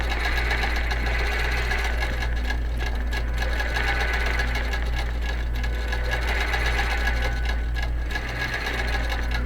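A QBOT quilting robot drives a sewing machine through a quilting pattern, a steady, close mechanical whir with a fast, even stitching rhythm and no talk.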